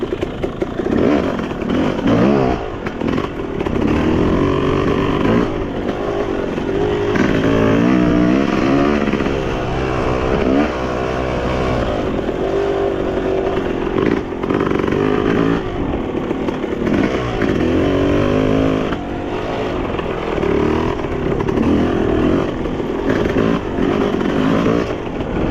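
Motocross bikes riding on a dirt track, engines buzzing and revving continuously throughout with rising and falling pitch, fairly loud and steady.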